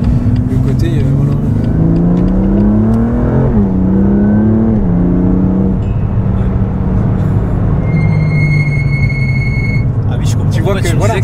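A car engine revs hard and drops through gears, pitch sliding up and down, with brief tire squeal and a high whine near the end.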